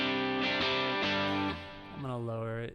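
Electric guitar played through a Line 6 Pod Go with reverb and delay on and drive off: a clean, sustained chord rings out, then a second strummed chord swells with lingering echo tails.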